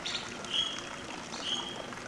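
Birds chirp in the video game Stack the States, with a few short, high tweets over a steady bed of background game sound, moderately loud.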